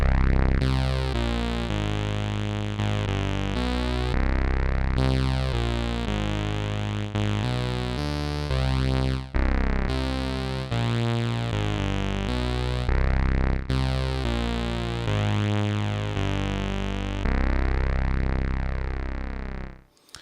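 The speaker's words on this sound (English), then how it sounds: "that's me adjusting the reverb just to give it a real extra high texture, high timbre" A saw bass synth with reverb plays a run of sustained, buzzy notes for about twenty seconds. The rich harmonics shift in pitch from note to note, the tails smear under the reverb, and it ends with a brief fade.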